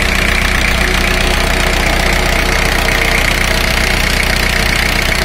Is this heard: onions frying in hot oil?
no